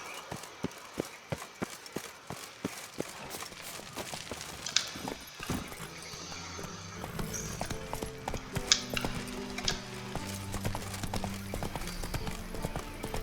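Hooves of the horse Roach in The Witcher 3 clip-clop in a steady run, rhythmic hits up front that then sink under a swell of game music.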